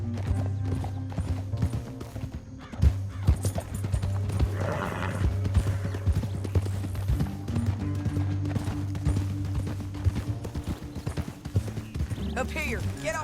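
Horses in the Red Dead Redemption 2 video game clip-clop steadily at a gallop, with a whinny breaking through, under a droning music bed; a voice briefly speaks over the hoofbeats.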